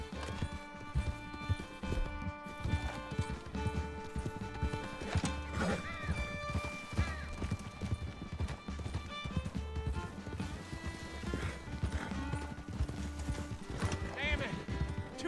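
Horse hooves clip-clop at a run with repeated neighs and whinnies in the Red Dead Redemption 2 video game, over a bed of game music and ambience.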